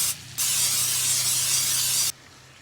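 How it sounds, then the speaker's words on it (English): Spray olive oil hisses from an aerosol can in one steady burst lasting about two seconds, close and fairly loud, with no talking. "we're just gonna use this spray olive oil"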